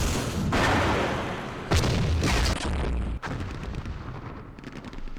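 Mortar fire in the Vietnam war game Campaign Series Vietnam, at the Battle of Hue. Loud booming blasts and rumbles come one after another in a few heavy bursts, with no talk.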